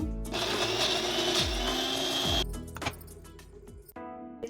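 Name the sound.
mixer grinding black pepper and salt masala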